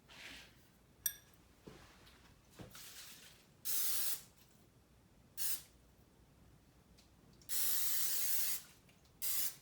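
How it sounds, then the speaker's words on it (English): Cooking spray hisses onto a small casserole dish and silicone cupcake liners in several short bursts, with two longer sprays, fairly close and clear against a quiet kitchen. "next we want to spray our dishes"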